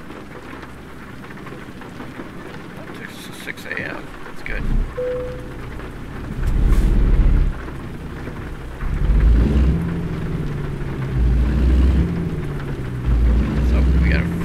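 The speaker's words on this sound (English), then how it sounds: "Uh-oh, rain again." Rain and thunder in the trucking game American Truck Simulator: a steady patter of rain with several deep, rolling thunder rumbles that swell and fade. Someone talks briefly over it.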